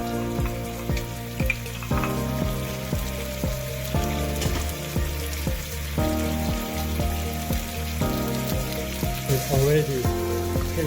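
Minced garlic sizzles and crackles in a frying pan, a dense, steady hiss close up with an engine-like hum from a range fan or burner underneath.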